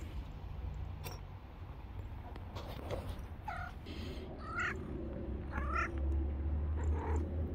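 A house cat meows several times, short rising cries that come close together, over a steady low outdoor rumble, with no talking heard.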